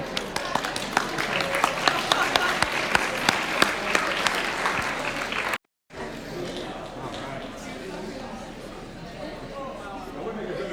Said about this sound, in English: All right, round of applause, guys.